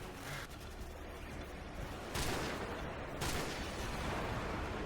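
Airstrike explosions in Call of Duty 4 on Xbox 360, a rolling series of heavy booms and crackling blasts that build into two loud, sustained bursts near the end.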